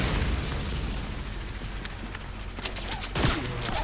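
Explosive game gunfire and booms from a battle at a South American power station in Metal Gear Solid 4, a dense continuous rumble with sharper bursts near the end.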